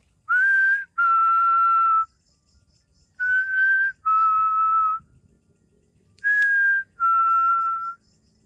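A person whistles to call spirits near a bamboo grove, giving three pairs of clear, sustained two-note whistles separated by short silences, close and loud with no talking.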